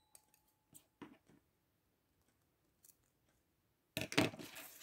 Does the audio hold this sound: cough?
no